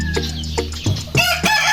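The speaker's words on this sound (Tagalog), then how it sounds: "Mga manok, pinatuka ko na rin yung tool." Chickens being fed close by, loud rapid clucks and squawks overlapping in quick bursts, with a rooster-like call among them.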